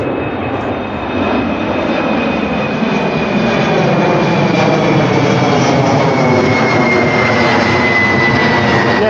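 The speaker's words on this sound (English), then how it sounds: "This is probably one of the last times we'll see planes fly from this place." A fixed-wing airplane flies low overhead near Tegel Airport, its loud, steady engine roar filling the whole stretch, with no voices heard.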